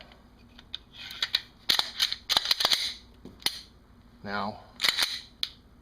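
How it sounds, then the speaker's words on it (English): Sharp mechanical clicks from a Glock pistol trigger being pulled after an aftermarket connector is fitted, several crisp snaps close to the microphone, with someone speaking briefly between them. "but pull the trigger"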